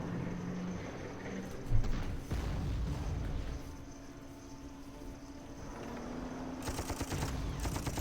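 Battle gunfire from German attacks in the WWII strategy game Soviet Corps, a sustained fusillade of distant shots with a louder thump early on and crisp rapid firing toward the end.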